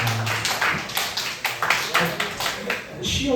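Scattered clapping from a small group at a high school youth worship service, honoring students for attendance during exam season; a few hands tapping in uneven bursts over a busy, noisy room.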